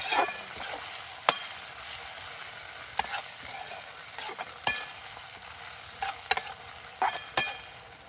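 Chilli chicken in a sauce of red chilli sauce and Schezwan chutney, stirred in a pan: intermittent sharp scrapes and taps of a spoon against the metal over a low, quiet sizzle, close by and unhurried.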